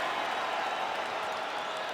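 Arena crowd in the UFC video game on PS5, Fight Night Abu Dhabi, roaring and applauding after a full-length bout. It is a steady, dense wash of cheering and clapping that holds at an even level throughout.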